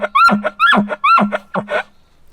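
A human caller imitates an elk chuckle call, giving five short, loud, close grunting bursts in quick succession, each rising then breaking off, before falling silent.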